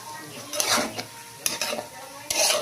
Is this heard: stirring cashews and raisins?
yes